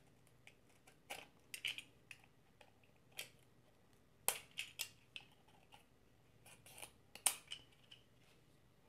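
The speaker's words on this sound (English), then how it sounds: "So let's start by getting it unwrapped." Plastic and paper packaging of a CoolWallet S slim crypto hardware wallet being torn and unwrapped, a sparse run of short crinkling rustles and sharp clicks heard close up and alone, with quiet gaps between them.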